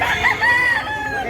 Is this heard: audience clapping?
no